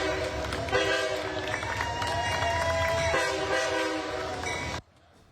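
An Amtrak Borealis passenger train on the St. Paul to Chicago route rolls past loudly, its horn blaring in sustained tones over the rumble of the cars before the sound cuts off abruptly.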